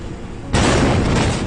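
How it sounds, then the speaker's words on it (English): Massive explosion at the port of Beirut, Lebanon, from a warehouse storing explosive material: an abrupt, very loud blast that follows quieter rumble and sustains as a roaring boom. "a catastrophic explosion occurred at the port of Beirut, Lebanon"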